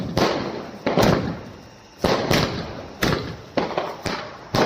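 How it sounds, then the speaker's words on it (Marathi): Firecrackers burst one after another at night during a Bhim Jayanti celebration, about seven sharp, loud bangs, each fading quickly, at roughly half-second to one-second intervals. "रात्री 12 वाजताच आम्ही फटाके फोडणं चालू करतो"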